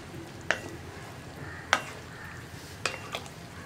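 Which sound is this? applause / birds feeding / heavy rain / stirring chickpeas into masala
stirring chickpeas into masala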